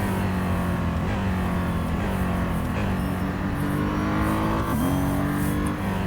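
The GTR safety car in the Real Racing 3 racing game at Silverstone produces an aggressive, loud engine drone, steady throughout with a few brief dips and rises in revs, and no talk over it.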